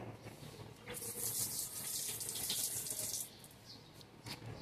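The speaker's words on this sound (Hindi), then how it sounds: "सबसे पहले इसको मैं अच्छी तरह से धो लूँगी" Tap water runs steadily over a piece of aloe vera leaf held under the faucet at a sink, a close, continuous splashing gush that eases off briefly near the end, with no one speaking.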